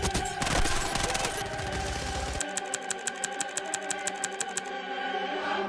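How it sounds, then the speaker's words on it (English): Rapid automatic gunfire from an NPC 25 loadout gun in a video game, a dense burst of shots that gives way to a steady string of evenly spaced individual reports, loud and close with no talking. "One of the best guns in the entire. Most broken NPC 25 loadout. This gun shreds people."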